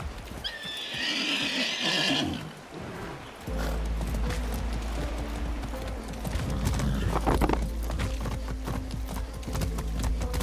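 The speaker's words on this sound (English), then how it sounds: "A magic horse." A horse in the video game Far Cry 6 whinnies loudly, then steady clip-clopping hooves continue at a trot over a low rumbling background.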